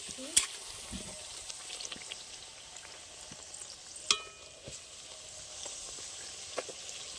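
Luchi fried in hot oil for a Gopal puja offering, a steady soft sizzle with occasional sharp spatters and light stirring clinks, close and moderately loud with no talking.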